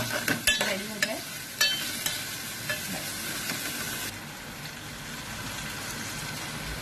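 Onions, potatoes and peas cooking in oil, a steady close sizzle with a few sharp clinks and stirring knocks of a utensil near the start, then an even hiss.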